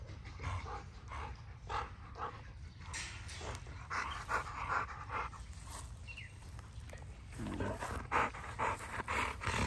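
A dog pants in rapid, rhythmic breathy bursts close by, steady throughout with some rustling and no clear speech.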